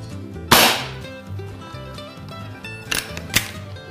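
A Beeman R7 air rifle fires RWS Hobby pellets, two sharp close cracks about two and a half seconds apart with mechanical clicks and rattles of the spring action between them.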